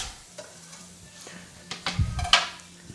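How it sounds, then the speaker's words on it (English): Onions and garlic hit hot olive oil in a pan, giving a brief rising sizzle with a spoon stirring and a few pan clinks. "Gonna throw the onions in, garlic,"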